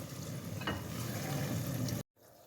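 Previously fried chicken chunks are stirred and tossed in a hot pan for lemon pepper chicken, giving a steady close sizzle and scraping that runs for about two seconds and then cuts out abruptly.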